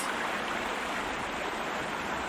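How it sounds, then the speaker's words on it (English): Animated flowing lake water in Sherlock Holmes: Crimes and Punishments makes a steady, dense rushing wash, constant and fairly close, with no voices over it. "I just love how good the water is."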